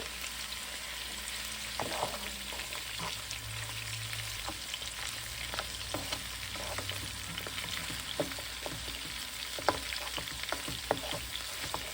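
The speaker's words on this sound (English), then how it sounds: "Just give it a nice little sear on the stove" Beef neck bones sear in a hot pan on the stove, giving a steady close sizzle with scattered pops and crackles and some light stirring scrapes throughout.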